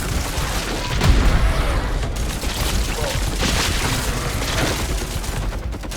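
Continuous enemy gunfire in the video game Scathe, a dense, noisy stream of overlapping shots and booms filling the whole stretch at steady loudness, with a voice talking faintly underneath.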